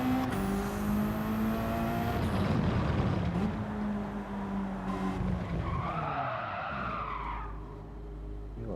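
A Subaru BRZ race car in Gran Turismo 7 howls under engine revs, then its tires skid and squeal through a corner. The loud engine tone dips and rises while the rubber screech cuts in near the end.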